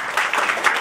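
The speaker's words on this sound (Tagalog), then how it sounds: "May pumalakpak na naman." Short, lively round of audience applause during a business presentation, a crisp spatter of many hands clapping close and fairly loud.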